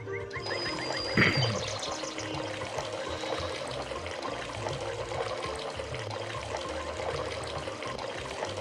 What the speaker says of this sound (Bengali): আরেক কলসি পানি ভরতে হবে